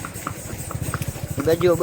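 A wedding-procession mare clip-clops in a quick, steady run of close hoofbeats, with someone talking over the sound.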